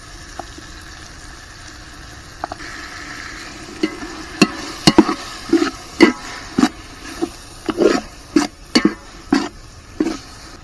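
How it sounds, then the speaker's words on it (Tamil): Masala with curd being stirred and sautéed in a pot for prawn biryani, a low simmering sizzle under a run of repeated sharp ladle knocks and scrapes that grow more frequent toward the end. "இப்போ இது நல்லா வதங்குற அளவுக்கு கிண்டி விட்டுக்க வேண்டியது"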